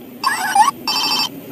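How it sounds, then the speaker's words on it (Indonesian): A toy telephone gives two loud, bright electronic ring bursts, each about half a second long, separated by a short gap and heard close up. "Tuh teman-teman, ini ada telepon."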